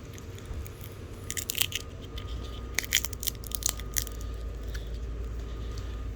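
An animal on a farm chews a peanut with close, crisp crunching and biting bursts that then fade into softer chewing over a steady low background hum.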